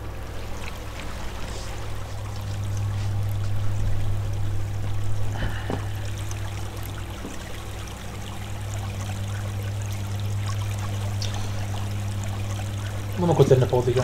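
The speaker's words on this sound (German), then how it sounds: "Hm, hier läuft überall Wasser lang." Water flows steadily in the Minetest game, a continuous rushing stream at moderate level that runs alone through the whole stretch, with a low hum beneath and a brief clatter near the end.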